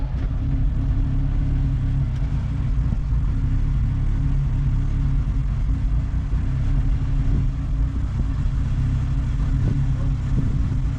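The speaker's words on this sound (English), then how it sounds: "The Cavalier mine might need some revs." A Chevrolet Cavalier, damaged by attempted theft, runs with a steady, low engine rumble held at raised revs, close and continuous without clear peaks.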